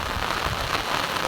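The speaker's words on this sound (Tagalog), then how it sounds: "At dito po sa amin maulan din." Heavy rain from a typhoon pours steadily, a dense continuous hiss of drops on surfaces with no pauses, loud and close.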